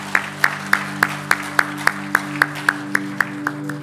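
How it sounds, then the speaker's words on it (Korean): A church congregation claps together at a Sunday worship service, giving a steady, evenly spaced beat of about four claps per second. A sustained organ or keyboard chord holds underneath the clapping. "우리 하나님께 영광의 박수 같이 한번 올려드리겠습니다."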